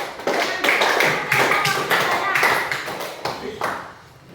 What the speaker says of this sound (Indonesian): Oke, tepuk tangan deh,